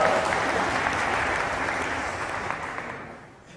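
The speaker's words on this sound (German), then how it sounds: "Ein kräftiger Applaus an das Rentier." A hall full of students gives a lively round of applause at a university physics Christmas lecture in Munich. The clapping holds steady and loud, then thins and fades away near the end.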